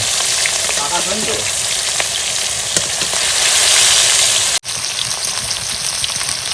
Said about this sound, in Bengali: বন্ধুরা মাছের এক পাশ ভাজা হয়েছে আবার উল্টে নেবো